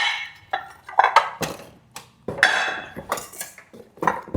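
Old ceramic plates clink and knock together as they are unpacked in a kitchen, a series of sharp, close clatters and taps at an uneven pace with brief pauses between.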